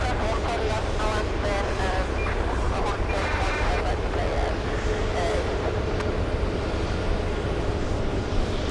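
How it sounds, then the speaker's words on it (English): A JetBlue jet airliner taking off from runway 15 right at Boston Logan International Airport, a broad continuous engine roar from a distance, with a voice talking over it. "Look at the JetBlue. Long runway. A takeoff on runway 15 right."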